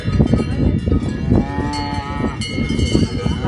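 Aubrac cow lowing for its calf, loud close moos repeating over a short stretch amid other cattle sounds and faint clanking bells.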